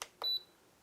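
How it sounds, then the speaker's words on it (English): A Spedix KK2 flight controller board gives two short electronic confirmation beeps after its model is erased, the second one slightly longer, close and clear against a quiet background. "You'll hear a couple beeps, which means that has pretty much erased the model."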